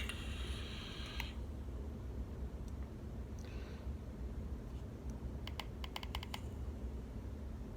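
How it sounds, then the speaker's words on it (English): Five quick, crisp button clicks close by unlock the spin dial of a small handheld device, after a stray click earlier, over a faint steady background hiss. "And to unlock, it's another 5 clicks"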